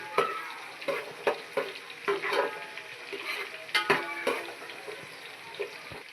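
Asafoetida frying in hot oil for a village-style jackfruit vegetable dish, a steady soft sizzle broken by repeated scraping knocks of a spoon stirring the pan, close up and without talk.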